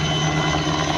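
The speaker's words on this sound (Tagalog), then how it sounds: "Dalawa na silang helicopter." A loud, steady engine drone with a low rhythmic throb from two helicopters flying overhead, continuous throughout the brief moment.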